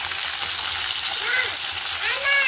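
Potatoes fry in hot oil for a village-style fish curry, a steady loud sizzle and crackle filling the clip, with a few bubbling pops rising near the end.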